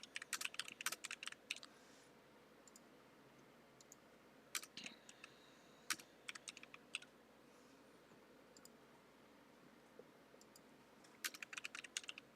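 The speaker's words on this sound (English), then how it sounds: "I want to type this" Quiet bursts of computer keyboard typing, with quick clusters of key clicks separated by pauses, close but faint against a low room hum.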